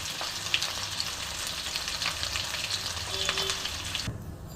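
Fish head and fish oil sizzle and spit in hot oil in a pan, a steady crackling fry with scattered pops, close and fairly loud, easing off near the end.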